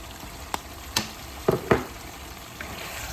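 Peppers and beef cook in a pot without added water, giving a steady low sizzle with a few sharp clinks and stirring knocks.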